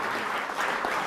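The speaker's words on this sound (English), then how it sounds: "So give us a round of applause." An audience applauds at a livestock pavilion dedication at the Cornish Fair, a dense, steady wash of many hands clapping throughout.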